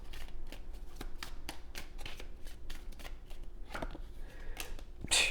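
Tarot cards being shuffled and drawn, a steady run of soft riffling flicks and slaps close by, ending in a brisker snap of cards.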